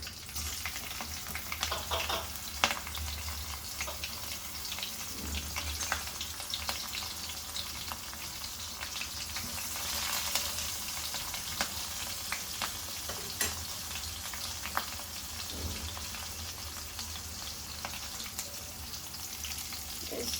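Curry leaves and green chillies fry in hot oil in a pan, giving a constant crackling sizzle with scattered pops and occasional stirring scrapes throughout.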